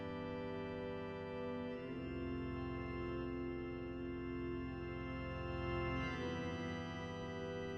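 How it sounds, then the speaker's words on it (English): Organ harmonic bed on a big stop doubled by a flute stop, a sustained, full, steady chord that shifts harmony twice, warm and continuous with no voices. "And that's being doubled by the flute stop."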